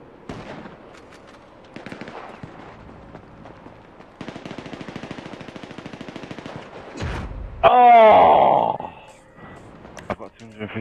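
Gunfire in a GTA 5 rooftop custom deathmatch: rapid bursts of rattling automatic shots, one long dense volley in the middle, then a loud blast-like surge, with scattered single shots and a player talking over it.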